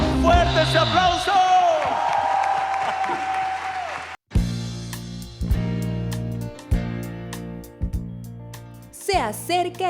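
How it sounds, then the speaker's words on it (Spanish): A church audience at a Christmas service breaks into loud, sustained clapping with scattered cheers and whoops, following singing that stops abruptly, the applause swelling and ebbing over several seconds. "Fuerte ese aplauso."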